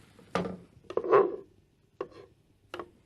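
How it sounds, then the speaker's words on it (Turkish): A spoon stirring tomatoes into an eggplant sauce in a pan, a few separate scraping and squelching strokes with short pauses between them, close and moderately loud. "hemen domatesleri ekliyorum. Şöyle karıştırıyorum."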